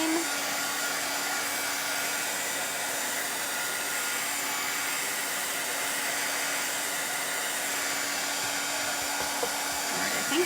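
Steady, moderately quiet blast of a hair dryer drying paint, running unchanged from start to finish with a faint whine and no talking.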